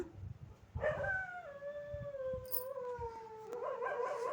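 A dog lets out a long, wavering howl that slides slowly downward and then rises again, with faint low background noise and distant scuffling, in the evening.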